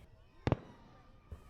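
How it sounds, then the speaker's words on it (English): Fireworks bursting over Lake Manawa during an evening show, two quick close booms followed after a pause by a softer third pop, with faint background noise between. "work together to create a glorious fireworks show at Lake Manawa June 27th"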